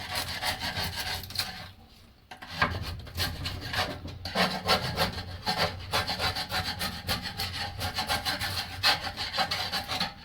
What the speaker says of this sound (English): What I'm using is a flat screwdriver, screwing around and scrape all this loose crap off.